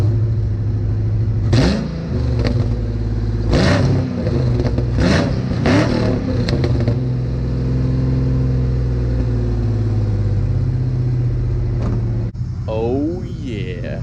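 A car that has sat unused for two years cranks and starts, then idles with a steady low rumble. A few louder revs come early on, and a person speaks briefly.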